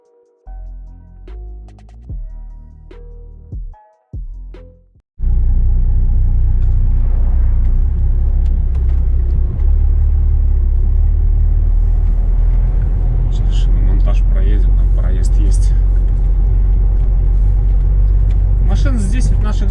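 A car pulls away on the road to Artem, its engine rumbling steady and close as tyres roll on, after a short stretch of speech and clatter at the start.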